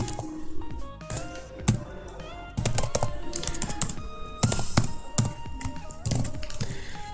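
Java code being typed on a computer keyboard: close, fast irregular clatter of key presses in quick bursts with brief pauses, loud and dry, with no talk.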